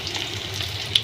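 Chana dal frying in a pan with potato, onion, turmeric and coriander gives a steady close sizzle with light stirring scrapes, brief and continuous.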